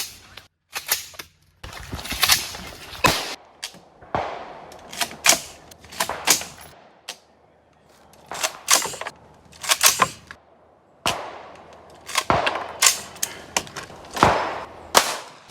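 Rifle shots crack out at a shooting competition, arriving in irregular bursts of sharp, loud reports separated by short pauses and lingering echo.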